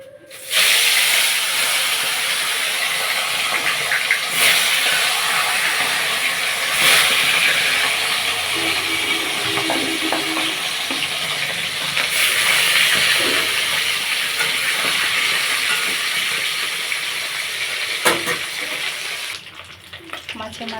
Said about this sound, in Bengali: কড়ার তেল খুব গরম হয়ে গেছে, মাছগুলো দিয়ে দেবো।